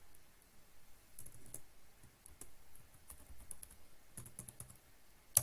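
Password keys tapped on a computer keyboard in two quiet bursts of soft, irregular clicks, with a sharper tap at the very end and no talking.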